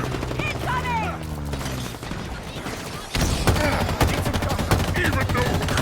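Gunfire in the Halo Infinite campaign rattles out in rapid bursts, with sharp repeated shots and explosive cracks and the game's voices and effects in between, growing denser and louder partway through.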